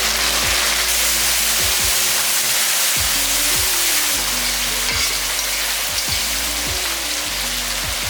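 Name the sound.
chopped tomatoes frying with onions in pan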